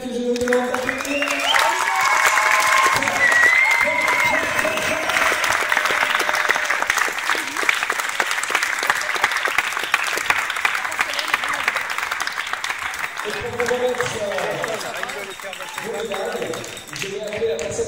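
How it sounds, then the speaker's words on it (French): A crowd applauds the Pirates de Genève, a semi-finalist power wheelchair football team, at a tournament in Le Grand Saconnex, Geneva; steady, loud clapping runs throughout with cheering and some voices mixed in. "l'équipe des Pirates de Genève, que je vous demande d'applaudir"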